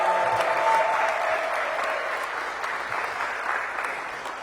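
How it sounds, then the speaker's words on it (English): Sustained applause from an audience at a children's cycling education graduation event, cheering health and physical education teachers; the clapping fills the whole stretch, steady and fairly loud, easing slightly toward the end. "Can we give a big round of applause to your health and"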